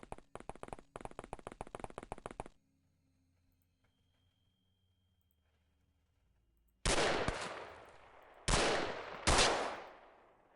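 Gunshots from the tactics game XCOM, a shot fired through a fence: a rapid burst of sharp cracks, a quiet pause, then several loud single blasts with ringing decay, no voices.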